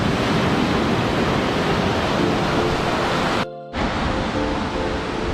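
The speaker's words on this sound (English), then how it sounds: "Surf's not too big." Ocean surf at Byron Bay beach rolls in as a loud, continuous wash of breaking waves, briefly cut by a short dropout before the steady roar resumes.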